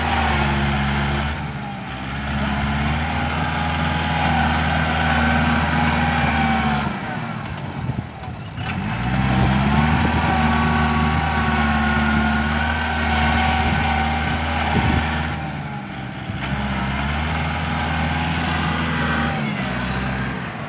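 A heavy diesel tractor engine runs close and loud for a long stretch, its low rumble dipping briefly twice as the load changes while it breaks up a dirt pile, then revving back up.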